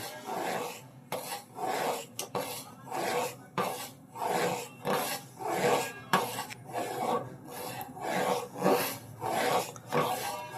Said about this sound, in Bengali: দুধটাকে অনেকক্ষণ নাড়তে হবে।